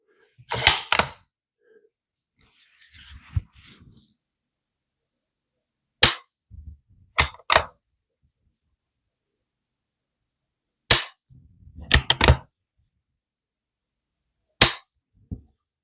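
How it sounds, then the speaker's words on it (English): Dry-fire trigger clicks from an empty Weatherby Vanguard Weatherguard bolt-action rifle: sharp, loud metallic clacks in small clusters spaced several seconds apart, with fainter handling rattles between and quiet surroundings. "Let's see if I can guess what this trigger's set at."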